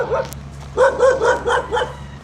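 Dogs bark outdoors on Boracay island, a quick run of about five fairly close, evenly spaced barks over a low steady background hum.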